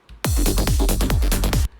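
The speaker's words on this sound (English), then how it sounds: "this is basically my idea of the bass line at that point" A punchy electronic bass line pulses in repeated deep notes with bright attacks, playing alone for about a second and a half.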